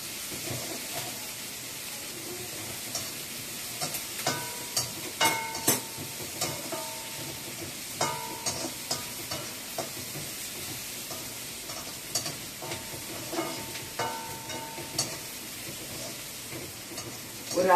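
Onions sautéing golden brown in a pan for wheat flour upma, a steady sizzle broken by repeated sharp clinks and scrapes of a spoon stirring against the pan, fairly close.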